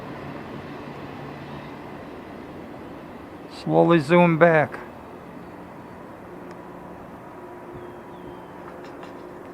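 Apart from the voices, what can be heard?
CSX freight train passing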